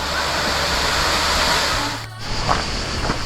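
Cascata delle Libellule Blu, a waterfall near Calice Ligure in Liguria, a steady close rushing roar of falling water that briefly dips, with no one speaking.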